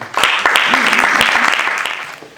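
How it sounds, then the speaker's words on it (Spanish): Applause from an audience at a public lecture on livestock fairs, loud and close, with sharp individual claps standing out in a thick burst that gradually thins toward the end. "pido un aplauso para ellos para agradecer su participación"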